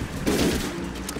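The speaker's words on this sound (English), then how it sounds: "I was shooting the gun." Gunfire in the video game Call of Duty: World at War, a loud burst of rapid shots lasting about a second, with a dense crackle that fades into a noisy battlefield background.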